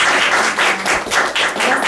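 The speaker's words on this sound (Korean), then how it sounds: "박연주 작가, 여러분들 큰 박수 보내주시기 바랍니다." An audience claps for an author at a book talk, loud close applause in rhythmic swells of many hands lasting about two seconds with no voices over it.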